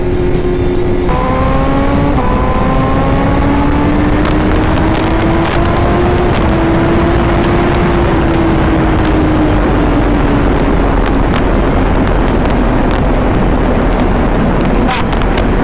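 A 2020 BMW S1000RR motorcycle engine revs loud and close in race mode, its pitch climbing and holding in sweeping harmonic lines over heavy wind and road rush, with speech likely mixed in.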